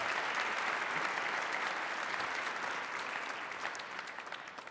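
Sustained audience applause at a Martin Luther King Jr. tribute and celebration, a dense steady wash of many hands clapping across the whole stretch, easing slightly toward the end.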